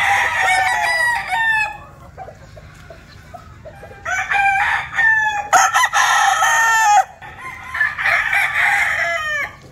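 A gamecock of the Butcher bloodline crows loudly and close several times, with overlapping crows and clucks from other fowl in between.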